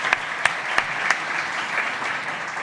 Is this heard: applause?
yes